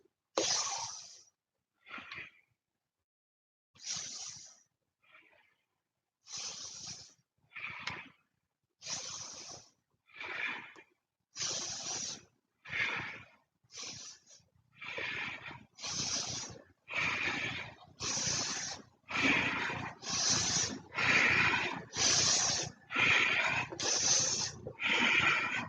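Deep breathing during a frog-pose exercise challenge: a long series of forceful nasal exhales, sparse and spaced at first, then quickening into a steady, rhythmic run of close, breathy puffs.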